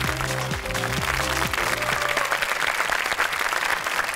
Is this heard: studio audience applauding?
yes